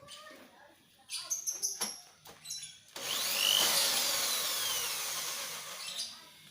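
A power drill runs with its rotation switched back to the right-hand direction, a steady whining buzz that holds for several seconds after a few short clicks and handling sounds.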